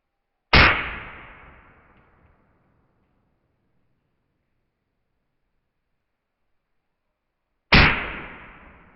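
Two sharp, loud reports from a 300 BLK rifle firing 190-grain Hornady SUB-X subsonic rounds into test blocks, each a single crack with a short decaying tail, several seconds apart.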